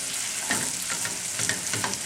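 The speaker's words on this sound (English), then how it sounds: "you can use a knob of butter just like that and put that in the pan. And allow that butter to just melt." A knob of butter melts in hot oil in a pan, giving a steady soft sizzle with faint crackles and a few stirring scrapes, close and continuous with no talking.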